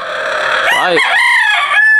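A rooster crows loudly and close, one full cock-a-doodle-doo rising and falling over about two seconds, with no talk over it.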